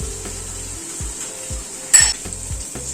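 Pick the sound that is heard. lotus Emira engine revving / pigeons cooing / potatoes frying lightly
potatoes frying lightly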